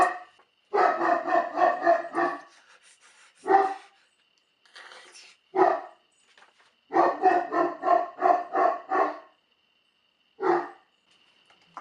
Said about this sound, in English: That's my dog, barking at some trick-or-treaters.